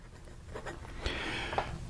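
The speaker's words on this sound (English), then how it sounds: "it's hard to get a solid patch of ink out of this nib, and there's not much ink laid down" Yongseng 9130 yellow fountain pen with a dry nib writing on paper, faint soft scratchy strokes up close, a few short scribbles in under two seconds.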